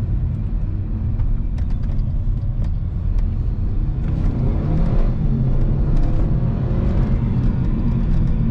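Mercedes A250 with a seven-speed paddle-shift gearbox accelerating in first gear, a steady deep engine rumble and whir heard from inside the cabin, continuous and fairly loud with no talk.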